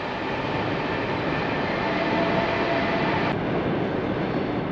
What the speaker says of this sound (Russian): прямо сейчас мы с вами слышим, как состав идет по железной дороге